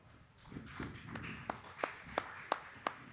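Quiet, evenly spaced hand claps welcome a guest on a Hungarian political discussion panel, about seven crisp strikes in a slow, regular rhythm that grow slightly sharper toward the end, with no talking.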